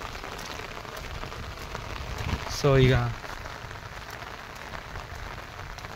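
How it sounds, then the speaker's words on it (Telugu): Heavy rain falls steadily on a rural home and shed, a continuous dense patter throughout, with a brief burst of a person speaking partway through. "ఫుల్ వర్షం పడుతుంది"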